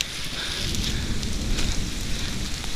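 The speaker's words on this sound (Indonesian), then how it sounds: "Di jalur kehujanan mulai gerimis sih." Light drizzle falls steadily on a muddy, root-covered mountain trail on the way to a lake, a soft even hiss of rain with no voices.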